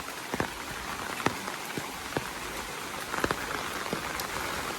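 Steady early-morning rain patters on a surface at a fair, with a few louder drips and splats standing out against the constant wash.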